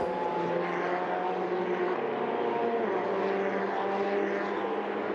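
Ferrari Challenge race cars circulate behind the safety car at Mugello, a steady, moderately distant engine drone with tonal harmonics that holds an even level without sharp revving; no speech.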